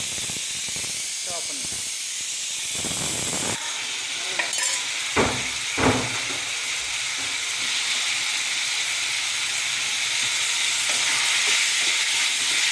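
Mixed vegetables sautéing in a pan for vegetable kurma, a broad hiss of frying that starts softer and grows fuller, with a few sharp stirring clacks partway through and no talking.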